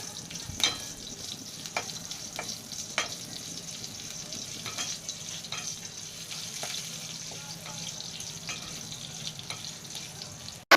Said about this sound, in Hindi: हल्का सा भून लेंगे इसमें।